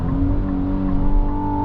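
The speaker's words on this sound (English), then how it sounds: "That nice signature Nissan twin turbo V6 sound here." A 2026 Nissan Armada NISMO luxury SUV with a twin-turbo V6 and nine-speed gearbox accelerates, a steady droning engine note heard from inside the cabin, loud and continuous.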